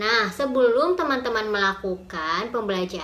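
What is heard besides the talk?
None of the usual background noises is heard.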